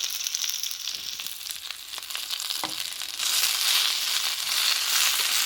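Scrambled egg and day lily flowers with Sichuan pepper and salt fry in a hot pan, a loud continuous crackling sizzle broken by scraping stirs, and the frying grows brighter and fuller partway through.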